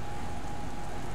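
Rain in the video game Star Wars: The Force Unleashed II, a dense, steady hiss of falling drops with a low rumbling undertone, continuous and fairly loud.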